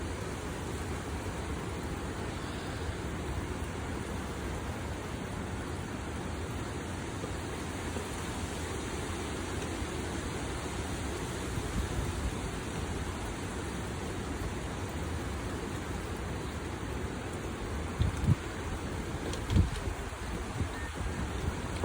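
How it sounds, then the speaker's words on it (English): Tropical Storm Zeta brings steady wind and rain to western North Carolina, a dense unbroken roar that holds for the whole stretch with a few brief knocks near the end and no voices. "And it's still howling up a storm."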